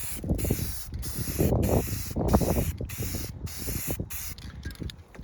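Spray paint can laying down a thin coat on a 1996 Chevy K1500 truck build: loud, close hissing bursts repeated in steady pulses with brief gaps between sprays.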